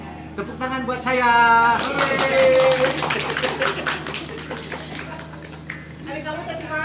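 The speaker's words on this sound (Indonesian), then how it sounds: "Tepuk tangan buat saya." Scattered clapping from a crowd at a Sundanese traditional festival in the Cireundeu customary village, a loose burst of applause rising and fading while people talk and call out over it.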